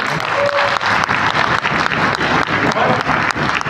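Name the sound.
applause at training event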